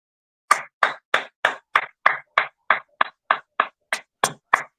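A steady run of about fourteen sharp, evenly spaced handclaps, close and crisp, in honor of Quincy Jones on a morning radio show, with no talking over them.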